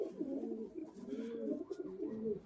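A Shakdum Chatial pigeon, a white-faced, twelve-tailed fancy breed, coos nearby in a steady, rolling series of low throaty calls, continuous and alone without talk.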